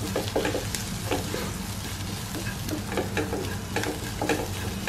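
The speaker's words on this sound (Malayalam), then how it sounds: "ഇത് നല്ല പോലെ ഒന്ന് മിക്സ് ചെയ്തെടുക്കാം." A spoon stirs garam masala and cumin powder through a frying bread and potato ball mixture in a pan, giving steady close sizzling with repeated scraping strokes and no talk.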